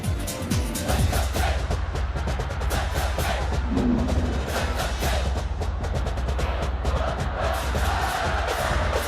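Gymnastics fans in Penn State's Rec Hall arena, a loud sustained crowd roar with cheering and shouting that fills the space from start to finish, no single voice standing out.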